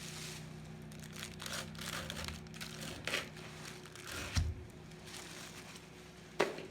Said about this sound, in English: More plastic trash.